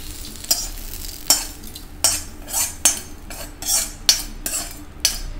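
Vegetables sautéing in a pan while being stirred with a metal utensil: about ten sharp scraping strokes at a steady rhythm over a soft sizzle, close and clear, with no talking.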